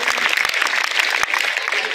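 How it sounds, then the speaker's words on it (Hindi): Loud, dense applause from a crowd cheering children at a Republic Day prize distribution, continuous clapping close up with a few sharp individual claps standing out. "जोरदार तालियों से बच्चों की हौसला अफजाई करें।"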